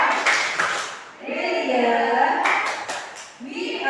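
Kindergarten children applaud together at a school event in Indonesia, a loud burst of bright clapping that gives way to raised excited voices and chatter, then more clapping near the end.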